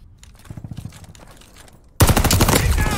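Loud, dense automatic gunfire in the military shooter Call of Duty: Vanguard bursts in suddenly and runs continuously, after a quieter stretch of rapid, muffled shots and faint footsteps.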